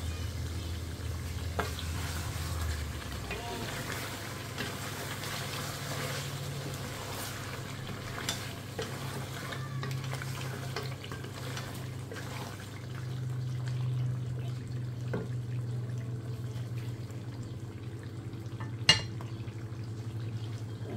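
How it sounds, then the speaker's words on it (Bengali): Food frying in a pan and being stirred, a steady low sizzle with scraping stir movements and occasional clinks, close and continuous with no talk. "অনেক নাড়িয়ে দিই এখন"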